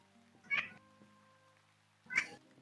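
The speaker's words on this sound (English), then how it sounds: "Murder Kitty is being very vocal today" A cat lets out two distinct, fairly clear meows about a second and a half apart against a quiet room.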